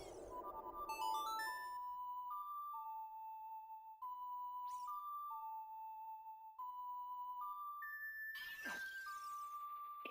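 A phone alert tied to Twitter plays as a chain of clear electronic beeps stepping up and down in pitch, with a brighter chime burst near the end. It is loud and close, and no one speaks over it.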